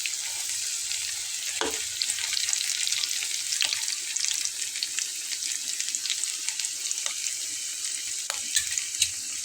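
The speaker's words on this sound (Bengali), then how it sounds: "তো ঠিক এভাবে উল্টে পাল্টে ভেজে নিতে হবে" Potato crunchy balls made with garlic and ginger deep-fry in hot oil while being turned, giving a steady, loud sizzle and bubbling throughout with a few soft stirring knocks and no talking.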